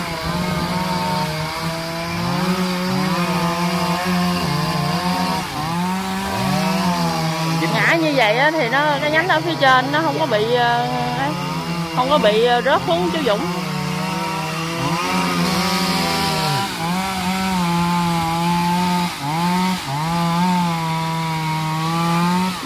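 A chainsaw cuts into the trunk of a Tràm Bông Vàng or Bạch Đàn tree, its engine droning steadily and rising in pitch as the chain bites, loud and close, while someone talks over it.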